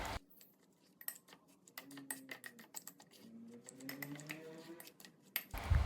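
Grated potato mixed with salt, pepper and flour in a bowl, heard as close, irregular clinks and scrapes of a utensil against the bowl with soft squelching textures, fairly faint, with no talking.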